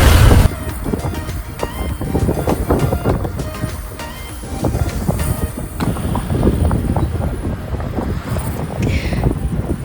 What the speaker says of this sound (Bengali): এই যে টয় ট্রেনটা আসছে